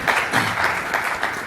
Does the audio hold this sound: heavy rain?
no